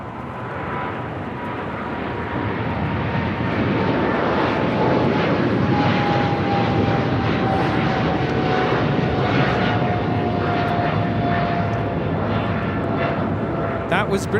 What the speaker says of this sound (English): That was British Airways 282 taking off to London Heathrow on the 777-300ER